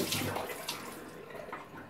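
Running water splashes and gurgles briefly from a tap into a basin during rinsing after a shave, close and fairly soft, with no talking.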